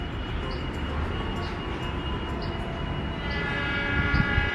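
Tegal Bahari passenger train departing a station, with a steady low rumble of rolling wagons and faint periodic clatter under a continuous drone, no talk heard.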